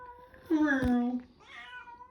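A pet cat meows once, a clear drawn-out call rising and falling, close by in a quiet home room with faint background sound.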